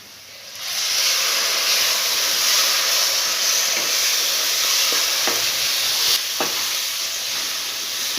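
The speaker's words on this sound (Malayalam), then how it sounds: "ഇനി ഇതിലേക്ക് തക്കാളി ഒഴിച്ചു കൊടുക്കാം." Tomato juice hits hot spice masala in a pan for a potato chicken curry, bursting into a loud, steady sizzle with a few scraping stirs, close and without talk.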